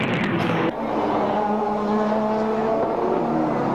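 Touring race cars at Mount Panorama, Bathurst, during the 1983 Hardie Ferodo 1000 roar past in a loud, continuous engine drone, with a brief sharper burst at the start as a car sweeps close.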